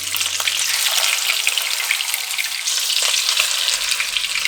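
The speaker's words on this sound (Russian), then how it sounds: "На сковородке котлеты жарятся очень быстро" Steady, dense sizzling of chicken breast cutlets frying in a hot pan, loud and close, with continuous crackle and no voices.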